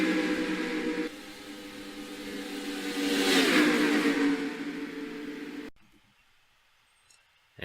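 Race cars in a Hardee's National Series round at Charlotte roar down the straight, engines swelling as they pass close by and then fading before cutting off abruptly near the end.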